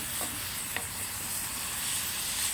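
Meat sizzles in a Dutch oven during outdoor cooking for a pizza, a steady close hiss that runs unbroken with no talk over it.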